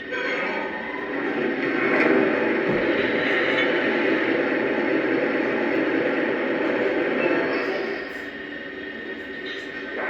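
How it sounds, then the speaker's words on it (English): Steady broadband rushing hiss of a Lionel model steam locomotive's water-filling sound effect for its tender, continuous and fairly loud, easing slightly near the end. "this is the sound of water being applied, put into the tender."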